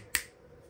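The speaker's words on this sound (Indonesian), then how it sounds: "Ini suara kamera seperti ini." A single sharp camera shutter click, crisp and close, followed by quiet room tone.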